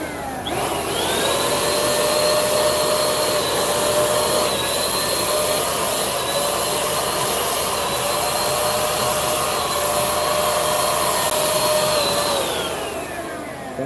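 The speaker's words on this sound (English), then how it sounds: "You have to press hard on the paint sprayer." An airless-style paint sprayer applying a liquid visual mapping coating gives a steady, loud, continuous hiss and whine that runs unbroken for about twelve seconds before tapering off, with no talking.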